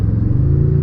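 A 2022 Toyota Tundra TRD Pro engine gives a short, loud, deep rumbling drone with a steady low growl and no break.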